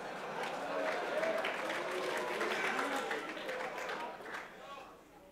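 An audience at a quiz livestream applauds, a dense wash of clapping that holds steady before gradually tapering off, with faint voices underneath.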